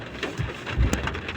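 Rain falls on a farm, a soft, steady patter with a few slightly louder drops, heard faint and close without any talk.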